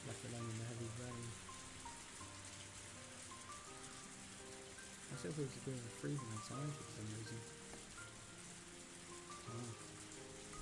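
Heavy rain in the Higurashi visual novel makes a steady, hissing downpour that runs continuously beneath soft musical tones, while a voice talks over it.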